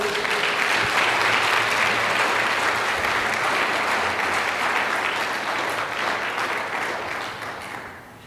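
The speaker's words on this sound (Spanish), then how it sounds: "Denle un aplauso a Él." Church congregation applauding during a Spanish-language sermon, a loud, dense burst of clapping that stays full for most of its length and then tapers off near the end.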